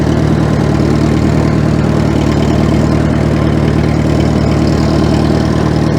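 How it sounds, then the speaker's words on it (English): A 50-year-old tractor engine idles loud and close, a steady, even mechanical rumble that holds unchanged throughout with no voices. "This, you know, 50-year-old tractor is still running strong."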